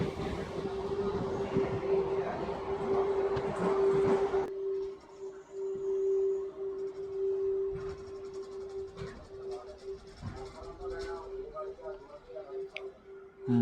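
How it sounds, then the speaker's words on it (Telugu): Kacheguda–Raichur MEMU train arriving at Manyamkonda station: rumbling carriage noise fades as it slows, leaving a steady tonal hum with soft ticking and clatter, quiet and close. "మాన్యంకొండ స్టేషన్కి మన ట్రైన్ చేరుకుంది"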